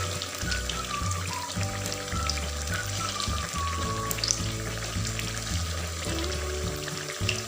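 Battered tempeh mendoan fries in hot oil with a steady, dense sizzle and crackle, continuous and close, without any talking.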